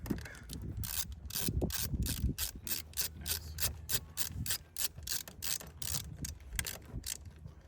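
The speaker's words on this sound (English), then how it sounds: "if you have a magnetic screwdriver, that helps a lot for this next one" Magnetic screwdriver turning a screw into a plastic window switch bezel on an old-body-style Ford, a rapid ratcheting clicking and rubbing, close and steady throughout, with no talk.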